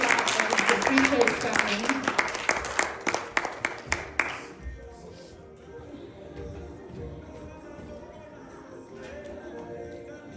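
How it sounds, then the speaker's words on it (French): A church congregation at a Pentecost service applauds the arriving preacher with quick, brisk clapping that stops after about four seconds, followed by someone speaking over quiet room noise. "Avec vos applaudissements, s'il vous plaît."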